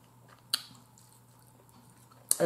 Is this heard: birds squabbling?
no